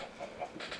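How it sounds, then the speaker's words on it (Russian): Chicken clucking in the video game Minecraft, a few short soft clucks in quick succession, faint and close with no talking. "Давайте будем жить вместе с курицей."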